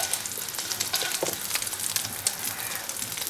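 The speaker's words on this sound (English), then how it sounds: "My egg fried pretty good" An egg frying in a pan for fried rice, a steady close crackling sizzle with fine irregular pops throughout.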